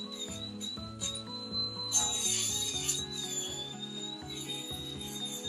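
A Hoof Boss trimmer works on the thick hoof walls of an Alpine doe goat, making close, repeated scraping and rasping strokes with small ratchety snips over a steady tonal background hum.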